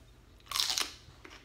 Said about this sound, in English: So I am going to take my celery and my awesome low-fat peanut butter.